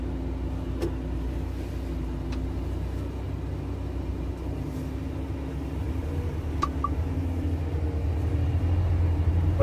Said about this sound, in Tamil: இப்ப இந்த வண்டியை ஓட்டி ஒரு ரவுண்ட் அடிச்சு பாக்குறோம்